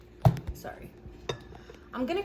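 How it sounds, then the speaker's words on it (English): A knife cuts red pepper into thin slices on a board, giving a few sharp, separate knocks and clinks, with a brief murmur of talk near the end. "I'm going to cut the pepper into thin slices like this, nice and chunky slices"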